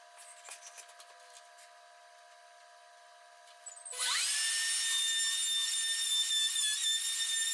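A Pantorouter cutting slots in wood for a workbench base spins up after a few quiet seconds of faint clicks into a loud, steady high router whine that holds to the end, with no talking.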